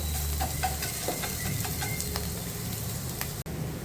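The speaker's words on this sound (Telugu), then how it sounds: "ఉల్లిపాయ అయితే తన పచ్చదనం పోయేదాకా వేగిపోయింది" Chopped onions sizzling steadily in hot salted oil in a pan, a dense continuous frying hiss with light stirring scrapes, close and even throughout.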